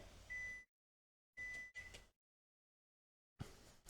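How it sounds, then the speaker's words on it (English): A timer beeps to signal that primer has dried during a DIY build of tabletop wargame buildings from trash: a few short, high electronic tones arrive in separate bursts with silence between them. "That's my timer telling me that my primer should be dry enough now."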